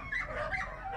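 Shelter dogs from Alabama whimper and yip in a steady, close, continuous stream of high whines with no talk over them.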